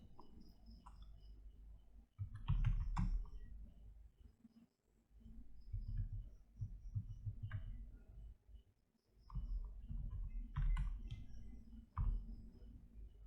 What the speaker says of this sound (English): To set the password, let's type the command.